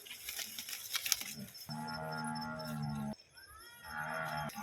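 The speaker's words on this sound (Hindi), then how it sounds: "घर पे मेरी भैंस चिल्लाए जा रही।" A water buffalo at home calls out in two long, loud, drawn-out lowing moos close by, with rustling and clatter before the first call.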